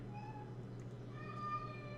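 An indoor house cat lets out a couple of faint, drawn-out meows over a steady low hum in a room where jewelry is being made.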